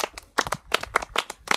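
A group claps in quick, uneven bursts for a child on a farm in Africa. About eight or nine crisp claps come close and fairly loud over a short stretch.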